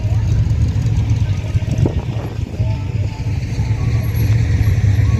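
Loud, noisy classic car engines idle close by at a car meet, a steady deep rumble running the whole time with small surges and no pauses.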